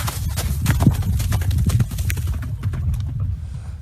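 A horse's hooves clip-clopping steadily as its rider rides off outdoors, a close, continuous rhythmic clatter over a low rumble, with faint bird calls.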